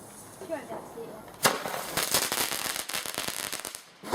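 Fireworks burst outdoors at night, a loud sharp blast followed by a dense run of crackling, popping explosions, with people talking nearby underneath.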